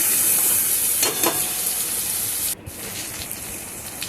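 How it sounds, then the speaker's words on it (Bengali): Taro root, potato and onion frying together in a pan make a continuous close sizzle with a couple of brief louder hisses when stirred, then a short dip before the frying noise resumes. "এগুলো একটু লাল লাল করে ভেজে নেব।"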